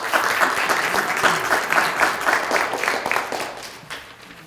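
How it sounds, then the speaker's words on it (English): Members of a girls basketball program applaud at a college signing press conference, a lively burst of many clapping hands held for a few seconds before tapering off. "I would just like to present you with some applause from the basketball girls program"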